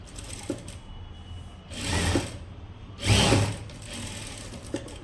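A domestic sewing machine runs two clear bursts of stitching along a blouse lining, each about a second long, with quiet pauses and small mechanical clicks between them, close and alone without talk.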